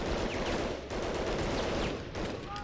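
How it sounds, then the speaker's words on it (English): Gunfire in the WWII shooter Medal of Honor: Underground, a dense continuous burst of rapid shots filling the whole moment, loud and sustained with no pauses. "there's someone shooting after me"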